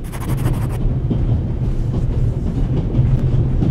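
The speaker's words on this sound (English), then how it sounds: "The noise on this train is driving me crazy." Steady rumble and clatter of a train carriage interior in the video game The Raven - Legacy of a Master Thief, a continuous loud low rolling drone with faint clicking throughout.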